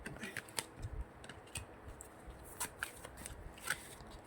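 Tarot cards being shuffled in quick, crisp riffles and taps, close by and moderately quiet, with brief pauses between bursts.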